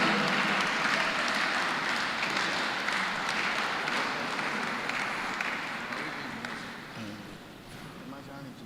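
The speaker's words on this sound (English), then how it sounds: "Please clap very well." A church congregation applauds in a large hall, a broad, dense clatter of many hands that holds steady and then slowly fades over several seconds.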